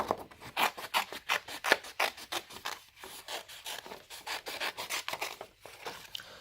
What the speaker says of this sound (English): I hate these scissors, they're so sticky, but this is what we're going to use today